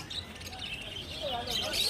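Budgerigars chirp at a crowded outdoor bird market, many high twittering calls overlapping continuously with faint background chatter.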